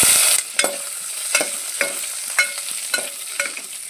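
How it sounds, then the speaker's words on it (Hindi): Paneer fries in a hot pan, sizzling steadily up close while a utensil stirs it, scraping and clacking in a loose rhythm of about eight strokes with no talk. "अब डालेंगे पनीर।"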